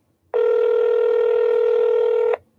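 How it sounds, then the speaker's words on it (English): A steady telephone tone sounds for about two seconds, loud and even, then cuts off cleanly, as a call is placed during a live radio-style show. "Let's get him on the phone."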